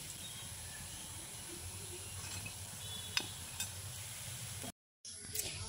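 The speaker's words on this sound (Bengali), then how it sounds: "তেলটা ছেঁকে কাবাবগুলোকে আমি তুলে নিচ্ছি।" Kebabs frying in hot oil give a steady close sizzle with a few soft clicks as they are lifted out and drained, broken by a brief silent gap near the end.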